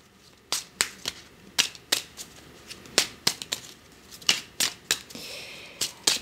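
Tarot cards are drawn and laid down, crisp separate slaps and flicks of card stock in an uneven rhythm, close and clear with no talking.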